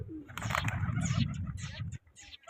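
Pigeons at a pigeon-flying competition, a close burst of soft cooing and bird calls with wing or foot patter, lasting a couple of seconds over background voices.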